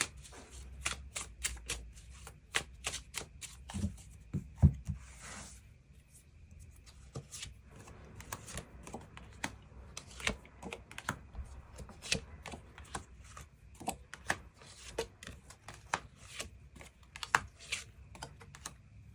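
Tarot cards are shuffled and drawn for a love reading, giving quiet, rapid crisp clicks and flicks in irregular bursts, close and soft, with no voice heard.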